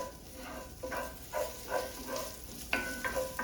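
Ginger frying in a hot skillet while being stirred, a soft, close sizzle with intermittent bursts of scraping and stirring at an uneven rhythm, fairly quiet and without voices.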